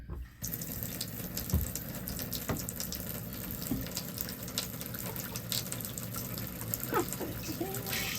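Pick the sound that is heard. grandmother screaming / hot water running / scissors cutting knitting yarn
hot water running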